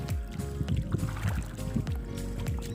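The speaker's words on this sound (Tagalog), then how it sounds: "Ang lakas ng amihan." Strong northeast monsoon wind blows at sea from a small fishing boat, gusting and buffeting the microphone in heavy low rumbles alongside water movement.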